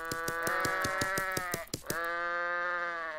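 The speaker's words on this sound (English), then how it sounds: "add in some sheepies" Sheep bleat in the WorldBox God Simulator game, several overlapping harmonic cries that swell and fade continuously, loud and close, with no talking.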